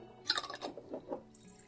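Water is poured into a jar of homemade chicken broth, giving a short, faint burst of splashing and trickling liquid up close that fades within a second or two.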